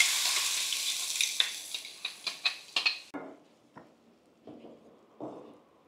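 Tomato paste being stirred into hot oil with chili powder, a loud, steady sizzle that fades out after a few seconds, with a series of sharp spoon scrapes and taps against the pan throughout.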